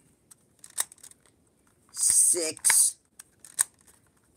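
Keys on a portable braille embosser are pressed hard, making sharp clicks and two longer, louder mechanical crunches close up, spaced irregularly, with a voice briefly counting in between.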